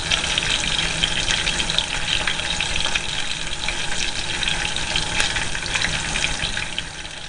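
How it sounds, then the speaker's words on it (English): Bacon fries in a pan with a dense, continuous crackling sizzle at close range, steady and fairly loud, with no voices. "While we're watching the bacon cooking"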